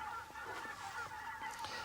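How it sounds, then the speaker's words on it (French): A flock of free-range Bresse Christmas turkeys on a farm gobble and call in overlapping, honking bursts, moderately close and continuous. "voilà des dindes"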